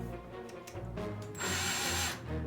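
A power drill starts up and whines steadily at close range after a few handling knocks and clicks.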